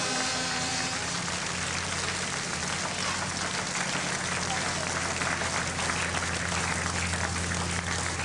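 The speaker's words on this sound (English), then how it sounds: "give them a round of applause" Steady crowd applause, a dense wash of clapping that carries evenly for several seconds with a low hum and a few voices underneath.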